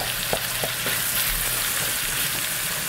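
Meat browning in a pan gives a steady close sizzle and frying hiss, with a few light scrapes and taps of a spoon stirring it early on. No voices are heard.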